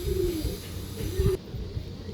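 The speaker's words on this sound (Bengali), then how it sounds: "খুব অ্যাগ্রেসিভ পায়রা আছে বন্ধুরা, হাতে থাকতে চায় না বন্ধুরা।" Pigeons handled by a seller give low, soft cooing murmurs in repeated short pulses over a couple of seconds, close by, with some faint background noise and no speech.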